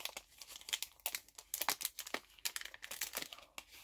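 Paper crinkling and rustling up close, a series of sharp crackly bursts with brief pauses between them, no voices.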